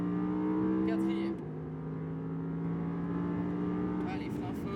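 Audi R8 accelerating on the Le Mans Maison Blanche race circuit, a steady engine drone heard from inside the car that dips briefly at a gear change before pulling on again, with an instructor speaking over it.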